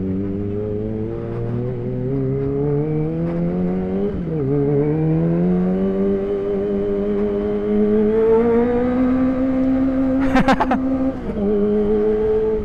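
A high-revving Kawasaki ZX25R sport motorcycle engine drones steadily with rising and falling pitch, close and loud throughout, with a brief sharper burst near the end.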